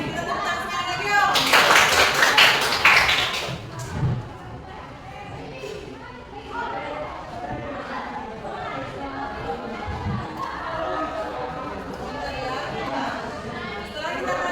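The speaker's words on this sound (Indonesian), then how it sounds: "Kita tepuk tangan sekali lagi yuk." Students in a classroom clap their hands together in a short, loud burst of applause lasting about two seconds, after which the room settles into murmured chatter and talking voices.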